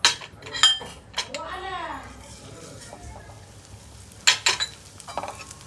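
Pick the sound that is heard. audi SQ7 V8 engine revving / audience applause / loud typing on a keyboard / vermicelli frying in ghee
vermicelli frying in ghee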